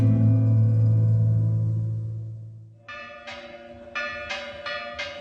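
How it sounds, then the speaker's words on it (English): Church bells in Mexico toll several times with bright ringing strikes, each left to decay. The strikes follow a fading low hum. "The church bells toll to summon the spirits to return and bring comfort to their families."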